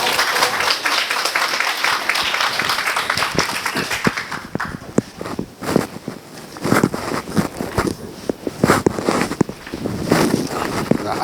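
Lecture audience applauding to welcome a professor, a full round of clapping that thins into scattered individual claps toward the middle before swelling again, fairly loud and close.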